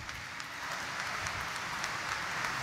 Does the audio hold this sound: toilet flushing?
no